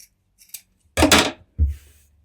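Scissors trim fabric up close while pants are sewn, giving a couple of faint snips and then two crisp, louder cuts with quiet gaps between them.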